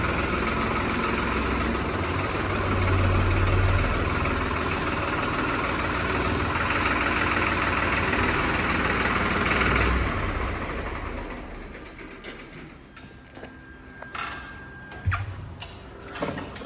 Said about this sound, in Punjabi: ਟਰੈਕਟਰ ਅੰਦਰ ਆਪਾਂ ਲਾ ਕੇ ਚੱਲਦੇ ਆ ਘਰ ਨੂੰ